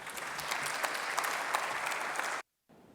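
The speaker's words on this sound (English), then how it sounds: "Please applaud." Audience applause at a conference keynote, a dense steady clapping that holds for over two seconds, then cuts off abruptly, leaving faint room tone.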